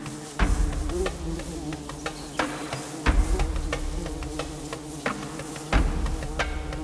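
Female bees dig their nest in dry desert ground, giving a steady faint insect buzz with repeated sharp ticks and scraping bursts from the earth being moved. No voices are heard.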